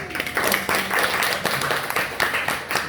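A church youth gathering applauds a young woman after she shares her vision, a steady wash of many hands clapping throughout, close and even.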